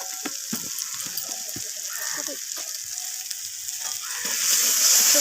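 Garlic and ginger paste with salt sizzles in hot oil for a rohu fish kalia, a steady close frying hiss broken by scraping stirs, growing louder near the end.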